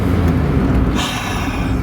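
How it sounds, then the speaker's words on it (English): A loud, low engine drone from the exhaust of a 1991 Mazda MX-5 Miata, steady and close, with the tone shifting slightly midway. "Listen to that exhaust note."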